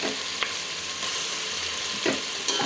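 Ginger garlic paste fries in a hot pan with a steady, dense sizzle, close and continuous, broken by a few soft stirring clinks, with no talking.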